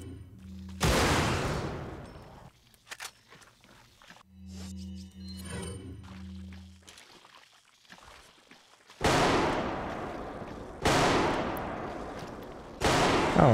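Gunfire in a Resident Evil mod, a horror shooter game: loud, sharp bursts recur across the stretch, spaced by quieter passages that carry low game ambience and a few hums.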